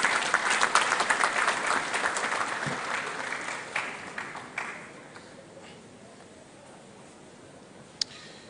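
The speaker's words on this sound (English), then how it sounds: "Please give him a round of applause." Audience applause fills a university congregation ceremony for the KNUST College of Engineering. The clapping starts dense and loud, then thins and fades to scattered, fainter claps.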